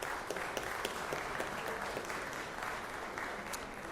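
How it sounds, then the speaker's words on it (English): Applause in the Georgia Senate chamber for two former senators, a dense, even patter of many hands heard from a distance at a fairly low level with no voices over it. "So give them a round of applause,"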